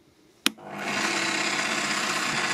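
A Lidl Parkside PTBM 710 A1 benchtop drill press switches on with a sharp click, then the motor spins up in under a second to a steady, close, continuous whine.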